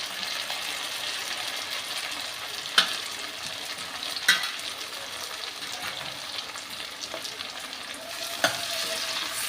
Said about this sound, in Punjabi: ਸਾਰੇ ਸਮਾਨ ਨੂੰ ਆਪਾਂ ਚੰਗੀ ਤਰ੍ਹਾਂ ਮਿਕਸ ਕਰਦੇ ਹੋਏ ਚੰਗੀ ਤਰ੍ਹਾਂ ਪਕਾ